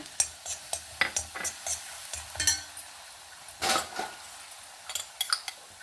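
Garlic and ground pepper roasting in a pan, with repeated metallic clinks and scrapes of a spoon stirring against the pan over a faint sizzle, no talking.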